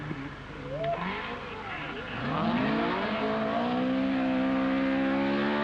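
Henri Toivonen's rally car on a 1981 Esgair Dafydd rallysprint downhill run, engine revving and climbing in pitch as it accelerates, tyres scrabbling, with a commentator talking over it throughout.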